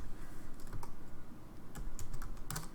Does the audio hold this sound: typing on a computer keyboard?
yes